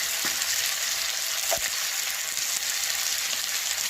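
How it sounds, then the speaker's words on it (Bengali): Banana and potato pieces frying in a pan, a steady dense sizzle and hiss with a couple of faint stirring taps, fairly quiet and with no talking. "লবণ দেওয়ার পর কলা আর আলুটাকে 2-3 মিনিট কষিয়ে নিয়েছি"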